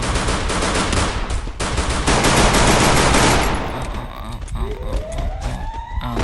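Rapid, dense bursts of automatic gunfire from the video game Free Fire, loud and continuous for about three seconds before thinning to scattered shots over a rising electronic whine.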